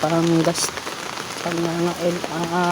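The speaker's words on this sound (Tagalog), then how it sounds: "malakas na po yung ulan" Rain hisses steadily on a surface while a voice speaks over it in short bursts, the downpour continuing between phrases.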